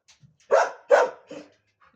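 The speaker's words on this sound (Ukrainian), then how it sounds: "Він тільки оце буде гавкати, так вже аж голова лопається." A dog barks twice in quick succession, then gives a softer third bark, with short quiet gaps between them and no other sound around.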